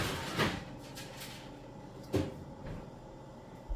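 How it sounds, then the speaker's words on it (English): A tray slides onto the bottom of a home oven and the oven door shuts, giving two distinct knocks about two seconds apart, close by with no talk. "So we're going to put this back on the very bottom"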